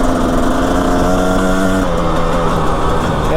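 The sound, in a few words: Yamaha motorcycle engine riding through soft sand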